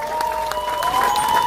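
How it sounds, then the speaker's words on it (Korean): Crowd clapping at an outdoor campaign rally in Cheongju's Yukgeori Market, a short steady wash of applause with a faint sustained tone running through it. "여기 안 계시지만 박수 한번 부탁드립니다."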